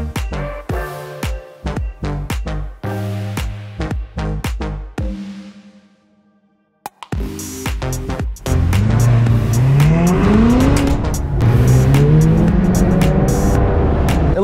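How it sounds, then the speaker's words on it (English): A Ferrari or McLaren supercar moves on a highway, opening with a series of sharp clicks and clunks, then a brief lull. A loud, close engine roar follows with repeated rising revs through gear changes. "let's go for a little drive and let's go for a little highway run."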